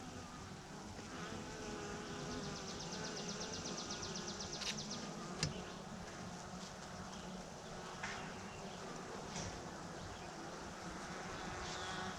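A dense, continuous hum of many bees buzzing close by, steady throughout with occasional individual insects passing nearer.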